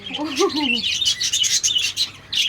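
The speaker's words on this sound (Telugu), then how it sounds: "చూడండి లవ్ బర్డ్స్ ఎన్ని ఉన్నాయి కదా, చూడండి." A flock of pet lovebirds chirping indoors, with busy, overlapping high tweets close by in quick bursts; a brief voice is heard at the start.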